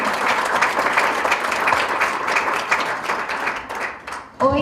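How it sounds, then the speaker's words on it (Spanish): A crowd applauds steadily in a dense wash of clapping for conference panelists, holding strong before fading at the end as a voice begins. "Un fuerte aplauso, por favor, para nuestros panelistas"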